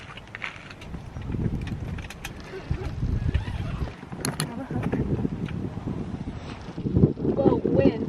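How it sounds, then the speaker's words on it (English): Wind gusts buffet the microphone outdoors near the coast, a steady low rumble with stronger surges through the middle and near the end. "Whoa, wind, excuse me, that was rude"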